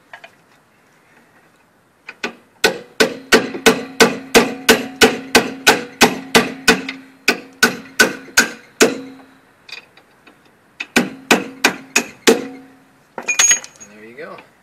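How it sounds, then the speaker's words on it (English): Hammer striking metal during strut replacement on a Toyota Corolla, a fast run of sharp ringing blows in steady rhythm, a brief pause, then another burst of hits, close and clear in a quiet garage. "take the hammer."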